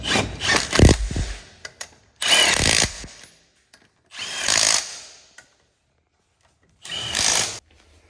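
A Milwaukee power tool, likely an impact tool in a dyno shop working on a CFMOTO vehicle, fires in four short bursts of about a second each, with quiet gaps between them.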